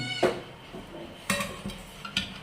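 A pan lid clanks down and a utensil scrapes and clinks against the pot as a thick sojja semolina mixture is stirred, in three distinct metallic knocks with soft scraping between them, close by.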